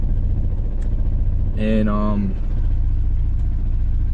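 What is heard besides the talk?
Honda B20 VTEC engine idling very low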